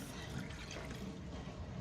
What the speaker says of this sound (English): And now we just need to add our water, which you want around 4 cups of water.